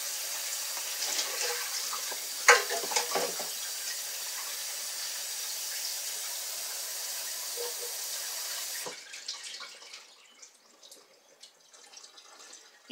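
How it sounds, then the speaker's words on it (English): Canned vegetables are rinsed under a running kitchen tap, a steady, moderately loud stream of water with a few splashes that lasts about nine seconds before cutting off, leaving quiet faint handling noises. "You should always rinse your canned vegetables because they've been sitting in that can for a while."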